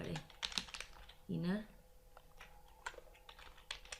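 Keystrokes on a computer keyboard come in short, quiet bursts of clicks, close by, while someone speaks briefly in between.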